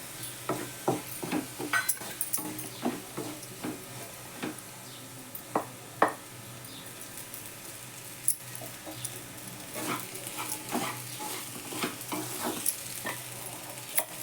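Potato and crushed peanut powder being stir-fried in oil for sabudana khichdi, a quiet sizzle beneath repeated scraping and knocking of a spoon against the pan at an uneven rhythm.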